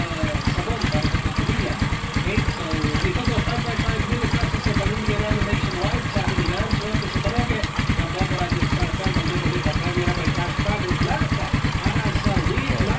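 An XRM110 motorcycle engine idles steadily during carburetor tuning, a close, loud, even putter of rapid firing pulses throughout, with someone talking over it.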